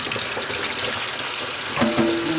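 Tap water runs steadily as sea moss is rinsed by hand, a close, constant gushing splash with slight changes as the stream hits the seaweed and sink.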